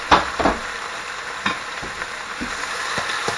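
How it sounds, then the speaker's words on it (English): Beef crackling and sizzling in hot oil, a steady hiss with a few sharper pops and stirring sounds, no talking. "Hear that nice sizzle?"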